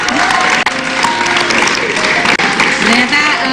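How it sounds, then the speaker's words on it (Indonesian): Studio audience applauding on an Indonesian television talk show, loud and dense clapping with some crowd cheering and voices mixed in, sustained for a few seconds with two very brief dips. "tepuk tangan dulu dong"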